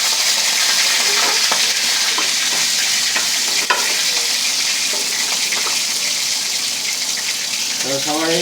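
Fish frying in hot oil makes a loud, dense, continuous sizzle that fills the whole stretch, with a brief clatter partway through and a voice rising faintly near the end.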